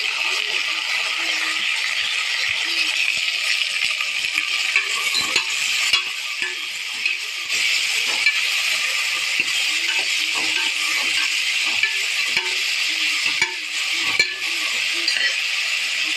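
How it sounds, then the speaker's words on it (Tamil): Vegetables are sautéed in a pan for beetroot kuzhambu, giving a constant bright frying hiss. Irregular light scraping and tapping from stirring runs through the whole stretch, close up, with no talking. "சும்மா வதக்க வதக்கணும் சொல்லுவோம்."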